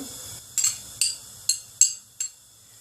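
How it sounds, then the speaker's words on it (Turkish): Chopped onions go into olive oil in a pan that is not yet hot, heard as five sharp metallic clinks of a utensil against the pan, evenly spaced and close, over a quiet low background. "Zeytinyağını koyduktan sonra kızmasını beklemeden her zaman olduğu gibi yemeklik doğramış olduğum soğanlarımı ilave ediyorum içerisine."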